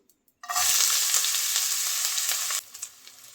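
Chopped ginger and garlic hit a tablespoon of hot oil and burst into a loud, close sizzle that holds for about two seconds, then drops abruptly to a faint crackle.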